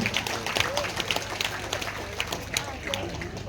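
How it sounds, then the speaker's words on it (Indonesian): A congregation at a Hindu temple ceremony in Surabaya gives a short burst of scattered clapping, moderately loud and uneven, with voices mixed in. "Tepuk tangan buat kita semua Bapak Ibu."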